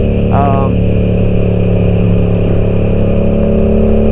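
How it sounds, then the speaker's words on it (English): A motorcycle engine chugs steadily and loudly up close, a continuous low rumble running throughout with a brief higher tone near the start. "Amazing bike. Chug chug."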